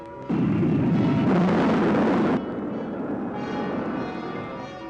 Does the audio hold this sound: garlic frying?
no